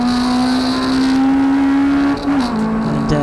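Honda Civic race cars battling at Croft Circuit, a loud steady engine drone holding pitch, then a brief dip and shift as the car changes gear and carries on, with no voices.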